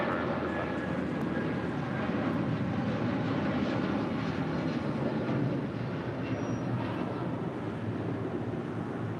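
A Cargolux jet airliner on final approach to touchdown on runway 25 left at LAX, a loud, steady broadband engine roar sustained close by for the whole stretch with no voices.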